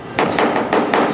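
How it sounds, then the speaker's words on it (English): A small hammer taps down high spots on a work surface, with three or four sharp, close strikes spaced in a quick, uneven rhythm. "Went ahead and tapped those down. Just use this little hammer here."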